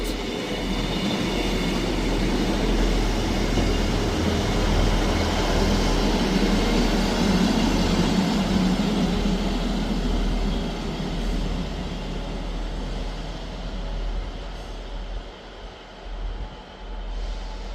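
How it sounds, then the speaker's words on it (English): A ScotRail class 158 diesel unit, 158708, pulls into Edinburgh Gateway station with a loud steady rumble of engine and wheels that eases and quietens as it slows to a stop, with no talking. "arriving in at the same time is the other 1208 ScotRail service from Leaving to Edinburgh Waverley"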